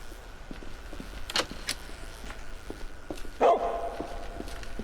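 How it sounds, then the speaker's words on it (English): A dog barks in a first-person shooter game, with a couple of short, mid-distance barks over a low game ambience and scattered footsteps or clicks, then a louder burst near the end. "Don't bark at me."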